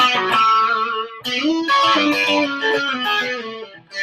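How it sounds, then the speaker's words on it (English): An electric guitar through a Providence Red Rock overdrive pedal plays sustained chords and notes with a warm, gritty crunch, with a brief pause partway through. "I'm using a Providence Red Rock overdrive to kind of get that sound"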